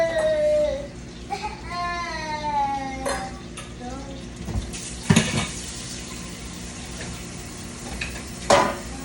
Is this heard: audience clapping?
no